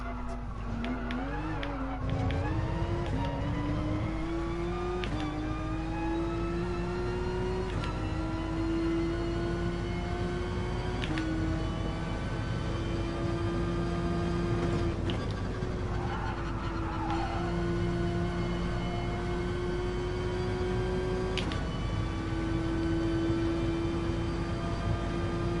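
A GR3 race car engine lapping Spa in Gran Turismo Sport, heard from the cockpit as a steady, loud drone whose pitch rises through upshifts, with brief tire squeals and no talking.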